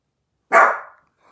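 A dog gives one sharp, loud bark close by, followed by a faint trailing sound, with silence around it.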